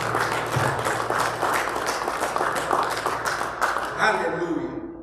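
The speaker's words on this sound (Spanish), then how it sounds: "Dale un fuerte aplauso al Señor." A church congregation claps loudly in praise during a sermon by a pastor, energetic and sustained applause over a low sustained keyboard tone, with a voice speaking over the tail as the clapping fades.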